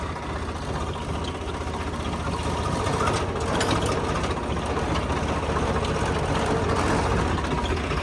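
A modified tractor-type machine's engine runs steadily while being reversed, a continuous close rumbling drone at constant loudness with no pauses.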